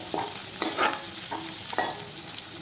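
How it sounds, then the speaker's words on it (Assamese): Onions fry and sizzle in a pan for a fish curry while being stirred, with a soft continuous crackle and a few distinct scraping strokes spaced about a second apart. "তাৰপিছত অলপমান লৰাই দিছোঁ পিঁয়াজখিনি ৰঙচুৱা হোৱালৈকে"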